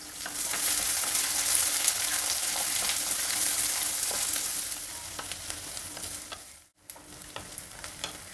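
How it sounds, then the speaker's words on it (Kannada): Chopped onion and crushed garlic fry in a pan with a loud, continuous sizzle and crackle, stirred now and then, the hiss easing briefly before it picks up again. "ಈರುಳ್ಳಿ ಬೆಳ್ಳುಳ್ಳಿ ಎಲ್ಲ ಚೆನ್ನಾಗಿ ಫ್ರೈ ಆಗಿದೆ"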